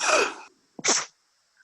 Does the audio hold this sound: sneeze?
yes